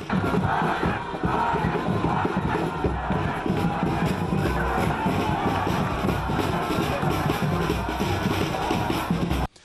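A dense crowd greets French president François Hollande on his arrival at the Gare Sud lagoon station in Plateau, a loud, continuous mass of cheering, shouting and shuffling that stays close and unbroken throughout.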